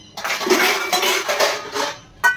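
A small nonstick pan is handled on the stove during cooking, giving several close metallic scrapes and knocks over a couple of seconds, ending with a sharper clatter.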